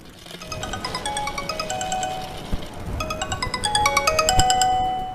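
A cartoon phone ringtone playing a bright, repeating melodic tune, rising a little in loudness and ringing on steadily with no talk over it.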